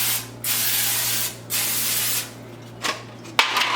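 Cooking spray hisses into a round baking pan in three loud, close bursts of about a second each, then a short final puff, over a steady low hum.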